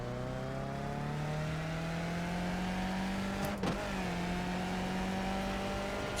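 A race car in the iRacing sim game laps Suzuka, its engine holding a steady, loud high-revving drone with a brief click-like blip midway and no talk.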